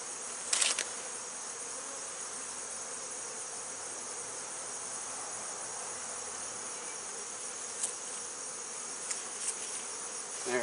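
Dense, steady buzzing of many honeybees around an open hive, a continuous close hum with a few brief louder passes and clicks on top.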